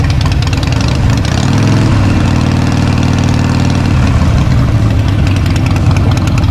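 A Harley-Davidson Sportster engine, just serviced with its primary chain tension adjusted, runs loud and close, a constant throbbing rumble held at a fairly even pitch throughout.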